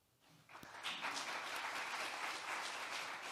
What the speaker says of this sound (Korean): 여러분 뜨거운 박수로 다시 한번 용기와 힘을 주시기 바랍니다.